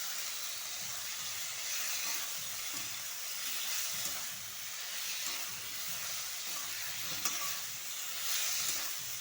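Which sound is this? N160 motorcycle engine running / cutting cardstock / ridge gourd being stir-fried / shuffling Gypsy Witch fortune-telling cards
ridge gourd being stir-fried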